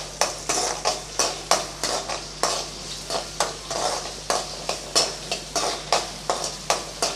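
Small onions and a medium onion, cut up, stirred and sautéed in a pan for a brinjal kara kuzhambu, with a steady sizzle under repeated rhythmic scrapes of a spoon against the pan, close and clear, no talking.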